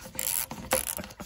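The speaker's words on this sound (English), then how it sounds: "With your ratcheting screwdriver." A ratcheting screwdriver clicks in quick bursts while turning during a steam boiler to hydronic hot water heating retrofit, close and crisp with short pauses between strokes.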